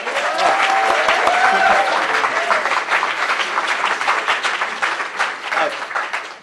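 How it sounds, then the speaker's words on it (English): A live audience at an evening talk bursts into loud, sustained applause of many hands clapping densely together, and it tapers only slightly over several seconds. "I've said nothing and you're already applauding."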